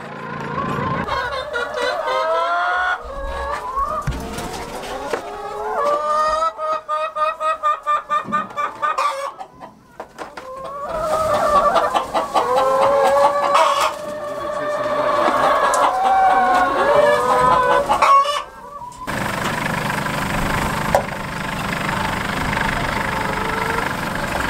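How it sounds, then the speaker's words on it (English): Farm chickens cluck and call close by in repeated bursts. An engine idles underneath at times, and a loud, changing noise takes over near the end. "We're now going over to see our pigs and chickens"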